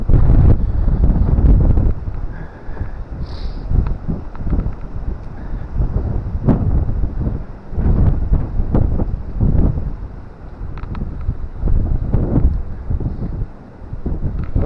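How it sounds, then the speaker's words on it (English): Strong wind at the seaside in Cromer, Norfolk, loud gusty buffeting against the microphone that rises and falls throughout. "Sheltering from the wind."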